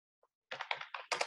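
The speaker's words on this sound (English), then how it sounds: "When I go to type, watch, when I go to type" A computer keyboard is typed on nearby: one light tap, then a quick burst of several clattering keystrokes in an uneven rhythm.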